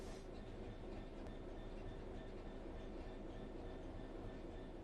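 A train runs steadily in the Train Sim World 3 video game, a faint continuous rolling rumble with a light hiss and occasional small squeaks, with no talking.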